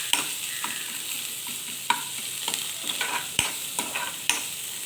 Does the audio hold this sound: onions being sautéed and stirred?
yes